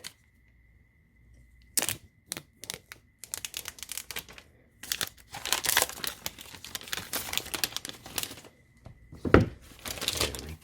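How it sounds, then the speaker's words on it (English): Cellophane wrap is peeled and crinkled off a midnight green iPhone 11 Pro Max box, a close series of crackling, tearing bursts with short quiet gaps, with no talking. "let's start with taking off the cellophane"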